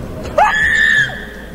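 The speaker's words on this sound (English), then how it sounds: "You're out here screaming and causing a disturbance out in public" A man screams loudly in a public place, one sustained high-pitched yell of about half a second that comes after a short rise in pitch.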